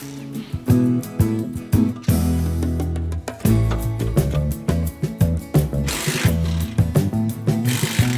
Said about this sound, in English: I'm leaving the shock and sway bar in place, so I'm just unbolting them from the lower control arm.